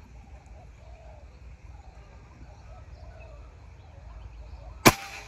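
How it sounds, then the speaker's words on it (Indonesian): A single sharp air rifle shot from a Monster M3 rifle cracks out near the end, loud and close, after several seconds of quiet outdoor ambience with faint bird calls. "Oke, tembakan pertama kita mulai."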